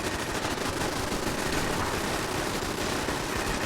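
Pipe weapon turrets in Fallout 4 firing continuously, a dense unbroken wash of rapid gunfire at steady loudness with no gaps and no voices.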